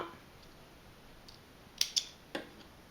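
Scissors snip through sewing threads at the end of a seam on a round terry-cloth hand towel: three quick, sharp cuts close by, clustered near the end against a quiet room.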